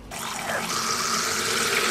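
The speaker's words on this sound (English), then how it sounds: "I'm just gonna grab some sprigs to pop in a jug of water." Water pours steadily and loudly into a jug holding fresh lemon balm sprigs, a continuous splashing fill heard up close with no talking.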